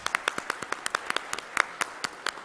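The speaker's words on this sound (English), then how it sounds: "And applause for the speaker" Sparse, distinct hand claps from a small conference audience applauding a speaker at a desalination conference, individual claps heard separately at an uneven rhythm, fairly quiet and close.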